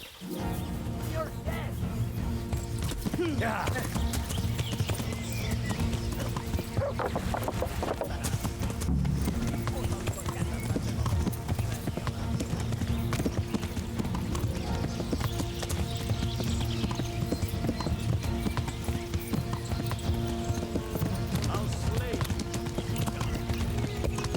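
Horse hooves clip-clop steadily while riding in the Kingdom Come Deliverance video game, a continuous rhythmic beat with an occasional whinny, heard under someone talking and game noise.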